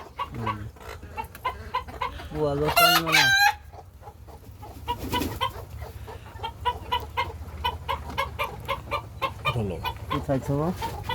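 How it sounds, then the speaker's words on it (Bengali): Hens on a farm that have long been laying eggs cluck steadily and close by, with a rooster's loud crow rising mid-clip, while people talk softly in the background. "আসলে মুরগিগুলো বেশ অনেক দিন যাবত ডিম দিচ্ছে"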